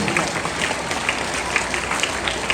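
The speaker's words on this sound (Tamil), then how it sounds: "அவர்களுக்கும் கைத்தட்டி வாழ்த்துக்களை பாராட்டுகளையும் தெரிவிப்போம்" An audience at a Christmas celebration claps in a steady, even round of applause, a dense wash of hand claps filling the room.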